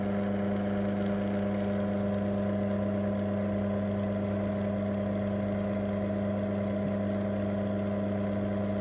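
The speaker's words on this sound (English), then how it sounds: "For down limit, we need to move motor by pressing down button. Motor is moving." A Nice SW 70 sectional door motor runs downward with a steady, even electric hum and drone, continuous and moderately loud, with no talking.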